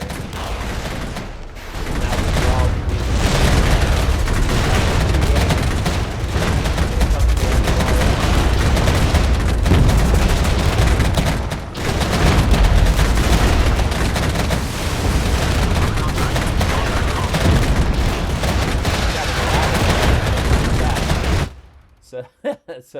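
Jaguar units open fire in the Regiments war game, a dense, loud, unbroken barrage of gunfire and booming blasts that runs for about twenty seconds before cutting off abruptly, with a few scattered shots left at the end.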